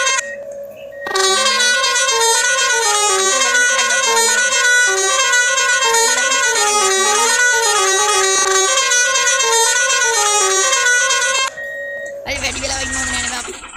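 A bus horn honks in a Sri Lankan driving simulator game, a loud, sustained musical multi-tone blare holding steady for about ten seconds before cutting off into brief engine and road noise.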